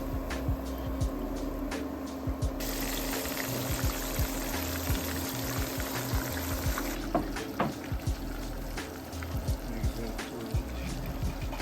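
Pieces of fish frying in hot oil in a pan, a steady close sizzle with scattered crackles and pops throughout, no talking.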